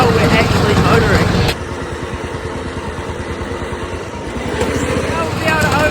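A ride-on lawnmower engine runs at full throttle while being driven along the Molesworth, a loud, close, steady buzzing drone that shifts in pitch partway through, with a voice talking over it.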